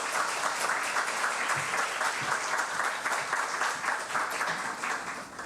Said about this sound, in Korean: 오늘 우리 박수로 큰 박수로 맞이하겠습니다.